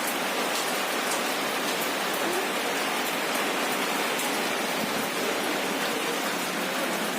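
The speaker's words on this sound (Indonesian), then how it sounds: "Hujan ya." Steady rain pours outdoors in a dense, even hiss of drops landing on surfaces, loud and continuous with no voices.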